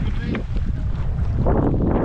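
Wind gusting and buffeting a microphone while canoeing on Saskatchewan's Porcupine River, a constant low roar that grows rougher near the end, with a voice speaking under it.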